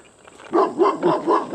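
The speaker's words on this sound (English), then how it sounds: "And the dog behind a huge fence." A dog behind a large fence at an animal refuge barks four times in a steady rhythm, fairly loud and close, after a quiet lead-in.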